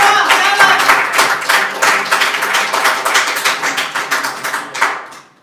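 A studio audience applauds loudly after an Urdu-Hindi poem recital, giving dense, steady clapping that carries on for several seconds before fading out.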